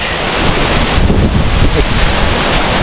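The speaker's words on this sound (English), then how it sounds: "I'm closest to the Jogini waterfall" Steady, loud rushing water of the Jogini waterfall near Manali roars without a break, broad and dense up close, with some wind buffeting the microphone.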